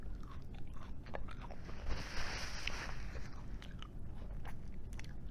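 Close-up chewing on a moringa drumstick pod, a continuous, crunchy, fibrous mastication sound held steady for several seconds with faint scraping and no talk.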